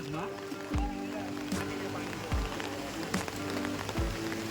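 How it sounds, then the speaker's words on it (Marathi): Steady monsoon rain patters on surfaces beside a flooded river in the Konkan region, a dense, even hiss with occasional low thumps as voices talk over it. "आता पाऊस कमी झालाय थोडा"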